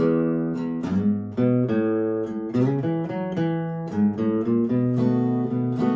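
A guitar plays a short bluesy turnaround lick of plucked notes and double stops, ending on sustained chords, clear and close with no talking.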